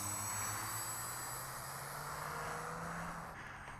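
Model airplane with a Clark Z wing section, its small engine droning steadily in flight at moderate distance, a sustained even whine with a faint low hum beneath, no speech.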